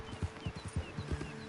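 A weak, scrawny horse in the video game Red Dead Redemption 2 plods along, its hooves clip-clopping in a quick, even rhythm of close, soft thuds with no talk.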